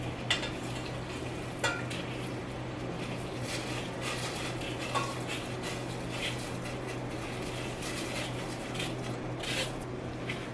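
A pot of boiling water with rice added bubbles and hisses steadily at low volume, with occasional light clinks and scrapes of a utensil against the pot, no voices.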